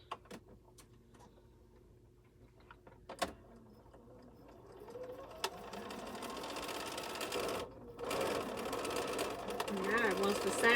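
A sewing machine whirs, building from faint clicks to a loud steady run with a brief pause, while a voice talks over it.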